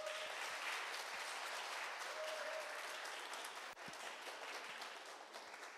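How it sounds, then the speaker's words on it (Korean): Crowd applause at the 2020 Lee Hae-rang Theatre Awards ceremony honoring an actress, a steady wash of clapping that stays even throughout, fairly soft and distant with no speech over it. "다시 한번 큰 박수 부탁드립니다."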